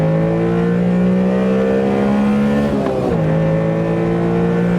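A Honda Beat's tiny 0.6-liter three-cylinder engine, which revs to 9,000 RPM in this rear-wheel-drive manual open-top sports car, holds a loud, steady, high-revving drone. Its pitch dips once partway through before it settles again.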